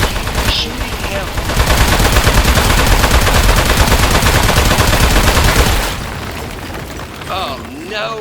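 In the Aperture Desk Job video game, a metal enemy is shot with a sustained, loud, rapid stream of gunfire that tapers off, followed by quieter game sounds, with a voice speaking over it.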